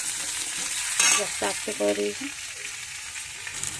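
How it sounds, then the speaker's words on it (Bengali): Vegetables for a Bengali singi fish curry frying in oil on low gas and being stirred, a steady sizzle with scraping stir sounds, while someone speaks briefly over it. "সবজিগুলো ভাজা হয়ে গেছে"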